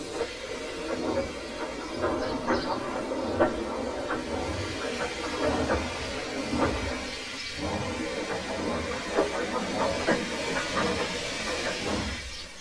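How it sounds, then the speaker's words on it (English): A steam locomotive chuffs and hisses in a steady, rushing stream of noise, with faint rhythmic puffs running underneath throughout. "they uncoupled Gordon, who had enough puff to slink onto the siding out of the way"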